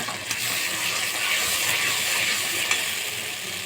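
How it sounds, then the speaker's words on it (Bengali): Ground spice paste fries in a pan for an okra curry, a steady, close hiss of sizzling oil broken by a few sharp clicks of stirring. "মশলাটা দিয়ে ভালোভাবে বেশ কিছুক্ষণ নেড়ে চেড়ে ভেজে নেব।"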